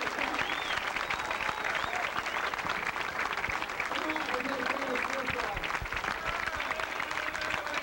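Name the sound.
fans applauding at 1989 US Open 9-Ball Finals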